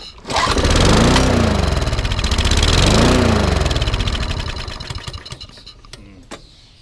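A Honda HRB423 lawn mower engine with a struggling carburetor and fuel problem starts, revs up and down unevenly twice, then sputters and dies into uneven, popping stumbles before cutting out, loud and close.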